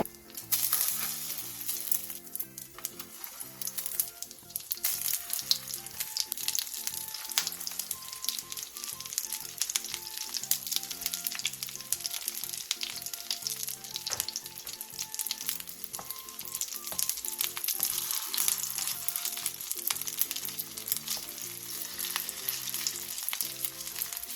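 Egg-coated onion and meat patties (donggeurangttaeng) sizzle and crackle in a pan over medium-low heat with a constant, moderate frying hiss, punctuated by occasional scraping as they're moved around; no voices.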